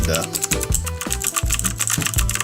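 Rapid typing on a mechanical keyboard fitted with clicky blue switches, sharp key clicks landing in quick uneven bursts, close and fairly loud, with voices faintly present underneath.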